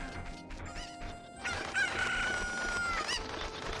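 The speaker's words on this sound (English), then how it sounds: "we might as well get the chickens, the cuckoos" Cuckoo chickens in The Legend of Zelda: Ocarina of Time on the Nintendo 64, a loud close cock-a-doodle-doo crow with clucking and a crash, no talking.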